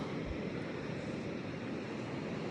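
Ocean waves washing onto a rocky beach on a cold winter day, a steady, loud surf roar mixed with wind noise on the microphone, with no voices over it.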